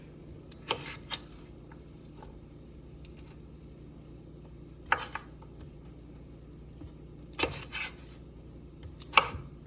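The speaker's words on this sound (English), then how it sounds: "so used to cutting zucchini" A knife slices zucchini on a cutting board in a kitchen, making a few sparse, crisp chops spaced seconds apart against a quiet background.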